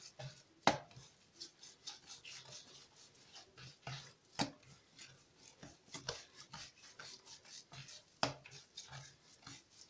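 Bread dough for small batbout flatbreads with black olives, thyme and olive oil is kneaded by hand, making a soft, rhythmic squelching and slapping that repeats steadily with occasional louder thumps, fairly faint and with no talk.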